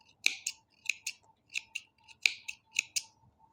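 Scissors snip through saree tassel threads in quick paired cuts, about a dozen crisp close snips in an uneven rhythm, with no talk over them.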